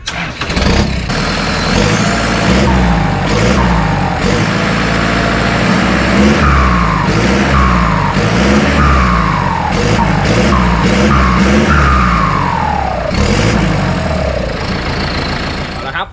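Turbocharged car with a 2-inch or 3-inch exhaust pipe revving, loud engine bursts that rise and fall repeatedly over a continuous exhaust drone, with occasional voices underneath.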